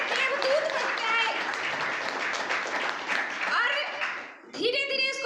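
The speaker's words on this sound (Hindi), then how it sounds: "मिस्टर अयूब अंसारी सर के लिए मैं एक बार जबरदस्त ताली चाहूंगी" An audience at a gathering in Kathara, Jharkhand breaks into loud, sustained clapping that dips briefly near the end before swelling again, with a voice cutting in as it continues.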